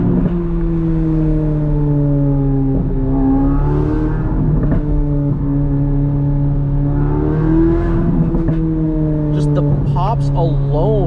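A Chevrolet C8 Corvette Z06 engine revs up and settles in several rising and falling sweeps, with crisp exhaust crackles near the end, while someone talks over it.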